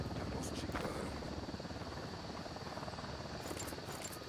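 Steady broadband rotor drone from a helicopter in the game Ghost Recon Wildlands, continuous and fairly loud throughout with no pauses.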